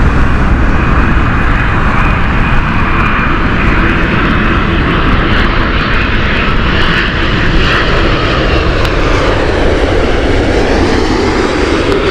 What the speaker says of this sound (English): next this is Air 787